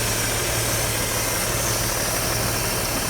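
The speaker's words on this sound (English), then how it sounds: "Idles like it's brand new now." The engine of a 1949 Chevy barn find idles in a steady, even drone, loud and close, with a constant low hum and no talk.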